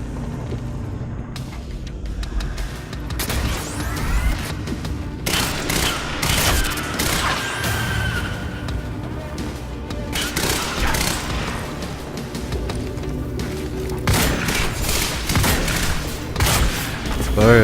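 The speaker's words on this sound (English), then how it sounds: "I just had to shoot the floor for a second" Repeated gunshots and crashing impacts in Quantum Break, loud bursts of firing and booms over dense combat noise and music, continuing throughout.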